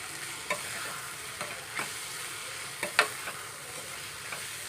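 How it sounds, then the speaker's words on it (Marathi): Onion and tomato being stirred in a pan with Malvani masala and turmeric: a steady close sizzle broken by several sharp spatula scrapes at uneven intervals, with no voices. "आपण यामध्ये जे आपण हे मसाले घेतले म्हणजे मालवणी मसाला आणि हळद ते घालून घेणार आहोत आणि छान मिक्स करून घेणार आहोत"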